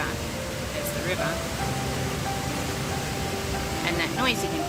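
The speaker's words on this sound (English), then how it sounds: "that noise you can hear in the background is a waterfall" A waterfall near a river in Minca, Colombia roars as a steady broadband rush in the background, continuous and moderately loud with some faint outdoor sounds over it.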